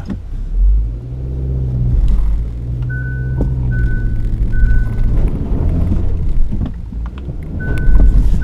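A 2016 Hyundai Tucson AWD reverses off-road, its engine loud and near, a steady rumble rising and falling with throttle and a brief beeping tone repeating in the middle.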